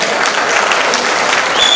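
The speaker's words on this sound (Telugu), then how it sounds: "వాళ్ళకి ఒకసారి మనం క్లాప్స్ కొడతాము." Audience applause for the organizers at an alumni meet, a dense, steady burst of many hands clapping, loud and close, with no talk over it.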